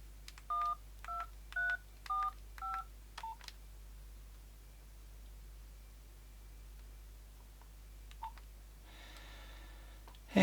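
Number keys pressed on a Nokia 7110 mobile phone give a quick run of six short keypad tones, followed by a couple of fainter beeps and a burst of hiss near the end.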